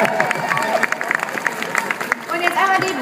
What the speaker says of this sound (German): Mach einen Applaus für den Hendrik.